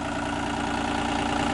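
A Sellick piggyback forklift engine idling steadily, close and even, with a low rhythmic mechanical throb and no other sounds.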